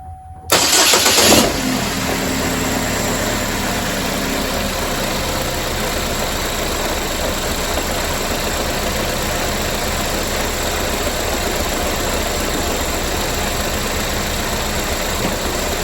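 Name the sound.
2017 GMC Terrain engine starting and idling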